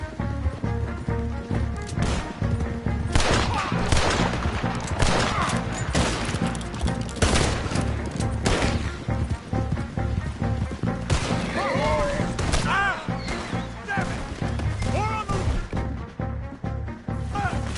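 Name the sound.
gunfire in a shootout in Red Dead Redemption 2 video game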